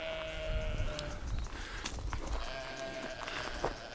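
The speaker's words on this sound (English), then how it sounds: "you can hear that the sheep are hungry now too" Several sheep bleat at a distance, faint calls rising over an outdoor background hum with occasional clinks.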